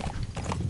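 Horse hooves clip-clopping in the video game Metal Gear Solid V, a quick, close run of soft thudding hoofbeats over a brief moment.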